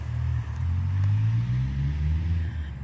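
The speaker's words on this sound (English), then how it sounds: "Yes, you can hear cars passing by" Cars pass on a nearby road beside a wooded nature spot, giving a low continuous traffic rumble that swells and eases, moderately distant with no voices.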